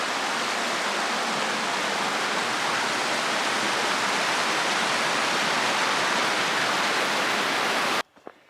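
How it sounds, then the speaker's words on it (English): Flowing water of Jennings Creek crossed on an Appalachian Trail hike, a steady loud rushing wash that continues throughout and cuts off abruptly near the end. "Crossing Jennings Creek."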